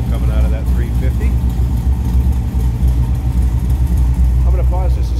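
The 350 V8 of a 1966 Chevrolet Corvette roadster convertible idles with a steady low rumble, close and loud, while someone talks over it.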